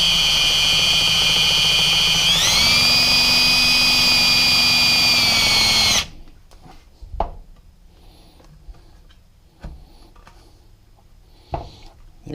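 Power tool whining steadily as it relief-cuts an M1A rifle stock, loud and close, its pitch rising partway through, then cutting off to leave quiet handling clicks and knocks.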